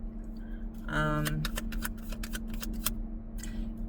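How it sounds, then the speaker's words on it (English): Crisp, rapid tarot card shuffling with flicking riffles and soft taps in bursts, close by, over a steady low hum and faint background voice. "when I was shuffling, I felt the need to reorganize the cards"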